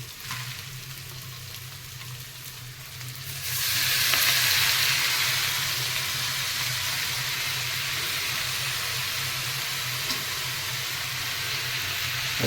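Leafy greens tossed into a sizzling pan of fish curry with brinjal, potato, tomato and onion cooked in fish oil; a low steady fry suddenly jumps to a louder, hissing sizzle as the greens hit and are stirred.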